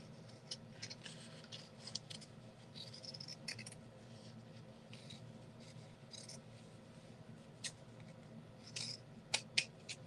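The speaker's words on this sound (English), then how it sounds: "Just loosely cut around this." Pinking shears or scissors snip loosely around a craft piece, a string of faint, irregular snips and rustles over a low background hum, growing sharper and closer toward the end.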